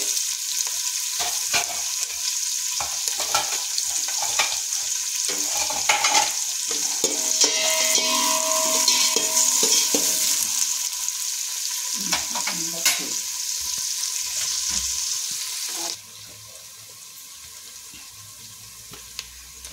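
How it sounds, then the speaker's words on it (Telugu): Green chillies and onions frying and sizzling in a pan for Karnataka girmit, with steady sizzle and intermittent stirring scrapes, close and continuous, quieting near the end. "ఇప్పుడు ఇందులో ఉల్లిపాయలు బాగా వేగక్కర్లేదు, కొద్దిగా 1 నిమిషం వేగాలంటే."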